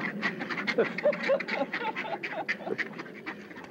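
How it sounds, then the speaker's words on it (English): Several ducks quack in a busy, overlapping chatter, close by, with a continuous murmur of calls throughout. "We have 6 ducks."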